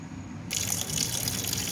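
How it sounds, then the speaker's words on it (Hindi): Tap water gushing over mutton liver being washed in a kitchen sink, the stream starting abruptly and running steadily, close and fairly loud. "अब हम इसको नॉर्मल टैप वाटर से इसको धो लेंगे"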